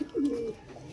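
A single pigeon coo, a short low warbling call heard close and clear over faint background noise.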